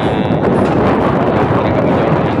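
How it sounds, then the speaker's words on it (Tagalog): Strong wind buffets the microphone in a loud, steady rumbling roar with no voices, at an open stockpile area in Santa Rosa, Laguna. "medyo malakas yung hangin dito sa aking kinalalagyan ngayon at medyo maingay"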